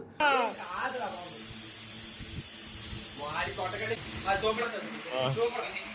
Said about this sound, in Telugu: కేక్ మీద వేయొద్దురా బాబు ఫోమ్ అన్నా సరే కేక్ మీద వేసారు